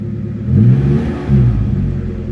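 A Toyota Tacoma engine revs twice just after an oil change, each rise in pitch and loudness standing out over a steady idling rumble, with no talking.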